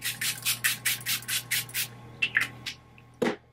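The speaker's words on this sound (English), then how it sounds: "I'm gonna spray my face with some cucumber water." Rapid, evenly spaced spritzes of cucumber-water face mist, about a dozen quick sprays in a row, then a few scattered ones, close and clear.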